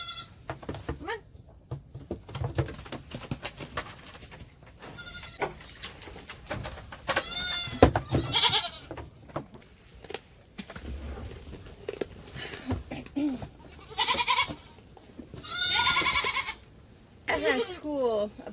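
Goats on a farm bleat repeatedly in wavering, nasal calls from several animals, some near and some farther off, separated by quieter rustling and shuffling.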